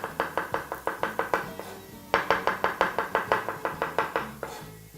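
Knife on a cutting board thinly slicing white button mushrooms, a brisk run of even, crisp taps, a brief pause, then a second rapid series, close and clear with no talking.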